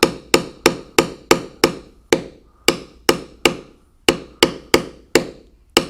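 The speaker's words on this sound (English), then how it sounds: "I'll use that to bevel all around the outside of the Cougar" A mallet strikes a checkered leather beveler over and over, beveling tooled leather in a steady rhythm of about a dozen sharp, loud, close knocks with short ringing decay.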